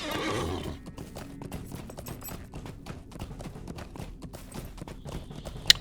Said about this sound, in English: Oh, we got a horse.